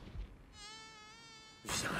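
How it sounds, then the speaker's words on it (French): A mosquito's thin, high whine hovers close for about a second, steady and nasal, between brief bursts of rustling noise before and after. "Viens là, saloperie de moustique de tes morts!"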